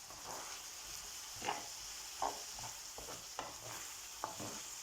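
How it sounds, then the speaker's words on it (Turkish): Liver sauté seasoned with salt, chili flakes and black pepper is stirred in a pan over a steady sizzle, with soft spoon scrapes and light taps against the pan at irregular intervals. "Güzelce karıştırıyorum."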